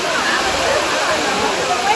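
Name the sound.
Tada waterfall near Chennai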